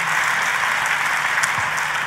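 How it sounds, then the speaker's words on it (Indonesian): A church congregation during a sermon gives lively applause, a continuous, fairly loud crackle of many hands clapping together with no speech over it. "boleh beri tepuk tanganmu yang paling meriah"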